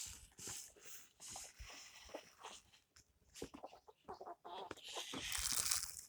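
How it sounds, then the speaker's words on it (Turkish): A big rooster and hens at scattered feed give intermittent clucks and short calls, fairly faint and close, with scratching and shuffling between them; no one speaks. "Büyük horozumuz geliyor"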